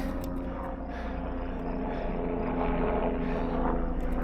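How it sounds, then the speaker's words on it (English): A rescue helicopter drones overhead above a Utah canyon, with a steady rotor rumble, fairly loud and constant throughout. "Helicopter up there."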